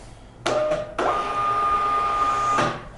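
A Kassen WL252 label printer prints a wristband label, starting with a brief mechanical whir, pausing, then running a steady, loud motor hum with a faint high tone for about two seconds before stopping.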